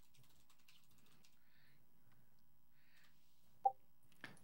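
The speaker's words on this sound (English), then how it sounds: "he's typing" Faint, sparse keystrokes tap on a computer keyboard in a quiet room, with one sharper click standing out near the end.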